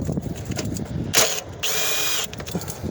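An impact gun spins briefly on 12 mm starter bolts of a 2001–2007 Nissan Murano, giving a short loud burst followed by a steady whirring run of under a second, close up over faint workshop rustle with no talk.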